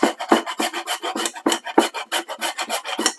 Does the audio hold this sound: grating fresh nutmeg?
yes